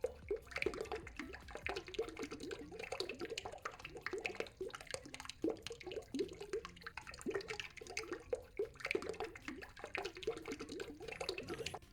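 Water pours steadily into pizza dough in the Italian Pizza Simulator video game, a soft continuous trickle and splash that runs alone and fairly quiet.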